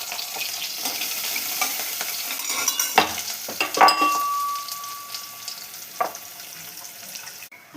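Crushed garlic and spice paste for veg pulao frying in a pan over low flame: a steady sizzle with stirring scrapes and a few metallic clinks from a utensil, close by and without speech.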